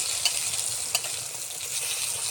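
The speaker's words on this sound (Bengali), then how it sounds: "তেলটা গরম হয়ে গেছে, এখন বেগুন দিয়ে দিব।" Eggplant slices fry in hot oil with a steady, close crackling sizzle and a couple of sharper pops, continuous and without talk.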